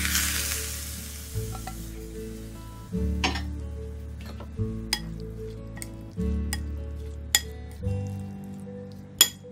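Hot frying oil poured over Balinese sambal matah sets off a loud, continuous sizzle, with stirring and occasional sharp clinks of a spoon against a dish. No one speaks.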